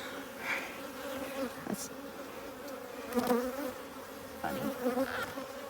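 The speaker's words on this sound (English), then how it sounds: "I see another bee doing a waggle dance." Honey bees buzzing close around a nuc hive in a continuous droning hum that swells as individual bees pass near, with brief quiet speech at one point.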